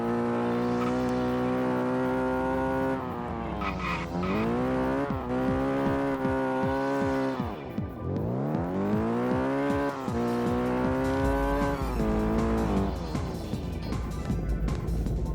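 Nissan Skyline engine from the racing game Test Drive: Eve of Destruction, loud and continuous, revving up and down through repeated gear shifts with sharp tire squeals, steady and close for about fifteen seconds.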